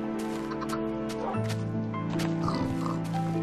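Pig oinking in the Minecraft video game, short grunting calls over a steady background music bed, moderately loud and close.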